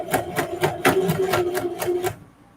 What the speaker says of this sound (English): I'm still on a straight stitch. And I'm going to back tack.